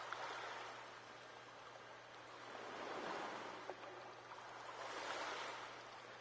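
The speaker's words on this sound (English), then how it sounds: "Oh, water." Flowing water in the Call of Cthulhu video game runs as a soft, continuous rushing wash that gently swells and fades, faint and steady with no talk over it.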